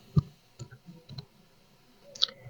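Sharp clicks from selecting an option on a screen during an ad-setup walkthrough, a few separate taps spaced across a quiet background, close and fairly soft.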